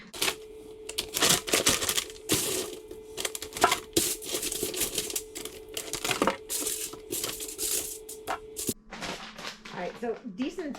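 Frozen rhubarb pieces are poured and packed into a vacuum seal bag, giving close crinkling plastic and rattling, clattering bursts throughout, with a steady hum under much of it and a brief change near the end.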